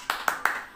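Three sharp hand claps in quick succession, about a fifth of a second apart, loud and close, from students doing an excited group clap during a classroom clapping warm-up.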